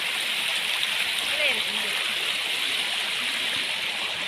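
Flowing water at Jatmai Nature Camp Resort, a broad, constant rushing like a stream or small waterfall, steady and fairly loud throughout with no clear talk over it.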